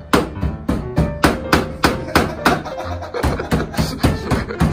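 A knife chops through pumpkin in a steady run of close, crisp thuds, about two per second, with brief voices between cuts.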